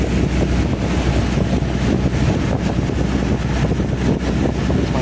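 A 1985 Starcraft motorboat cruises on open water, its engine drone steady and close beneath heavy wind buffeting and splashing water, with no pauses.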